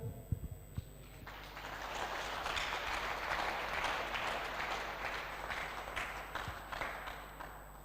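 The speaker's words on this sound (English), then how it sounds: "a round of applause to them" Applause from the audience at an interdisciplinary forensic summer school session swells from scattered claps into steady, moderately loud clapping from a roomful of people, then thins out toward the end, with a faint electrical hum underneath.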